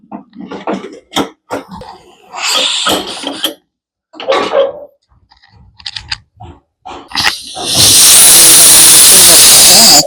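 A pressure cooker on the stove lets out a loud, steady hiss of steam for the final two seconds, after a series of clinks, taps and handling noises from the kitchen.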